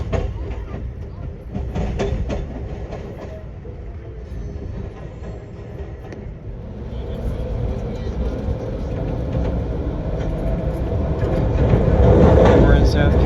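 An Amtrak Silver Meteor passenger train rolls along the tracks in South Carolina with a steady rumble and rattle, growing louder toward the end.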